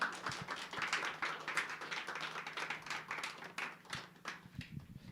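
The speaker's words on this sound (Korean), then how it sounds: "목사님 나오실 때 박수로 환영하겠습니다." Scattered clapping from a church congregation welcoming a guest preacher at a Sunday service, a modest, fairly close round of applause with uneven individual claps throughout.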